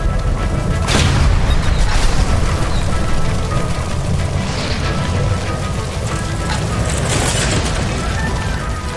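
A gas line blows up in L.A. Noire with a loud boom near the start, then a long, dense roar of debris and rumble that stays heavy throughout.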